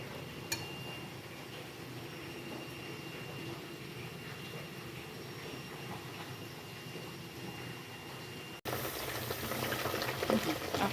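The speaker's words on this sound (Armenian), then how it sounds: "Արդեն 7 րոպե է եռում է," Pickle marinade boiling in a pot on a gas stove, a steady bubbling hiss under a low burner rumble, close and continuous, growing brighter and busier near the end.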